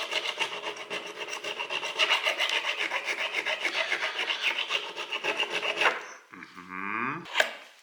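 A file rasps along the fret edges of a guitar neck, rounding them off in steady rapid strokes, close and loud for about six seconds, then a few slower scraping passes.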